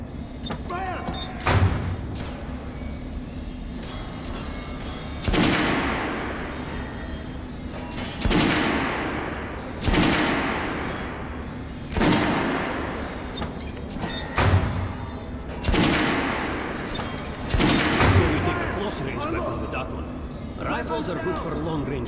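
Rifle fire in the video game Metro Last Light, a Kalash assault rifle shot at targets, loud sharp reports in a steady series of about seven, each with a decaying tail over a low hum.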